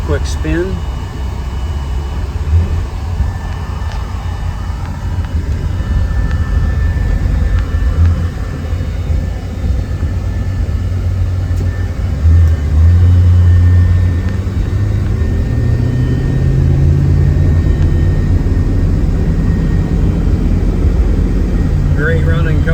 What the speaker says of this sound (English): Take her down the road here for a quick spin.